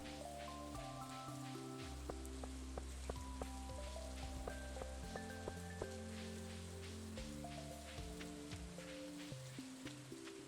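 Steady rain patters on a rainy fall day in a fishing video game, a soft continuous hiss beneath melodic game music.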